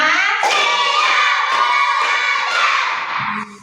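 Schoolchildren clap in unison during a counting clap routine, a run of loud rhythmic group claps mixed with chanting voices, fading at the end.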